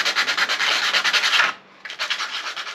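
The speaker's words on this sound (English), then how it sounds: "we're going to scuff these up and try to clean them up" Rusty trailer jack bolts are scuffed clean with rapid back-and-forth abrasive rubbing, loud and close, with a brief pause before the scrubbing resumes.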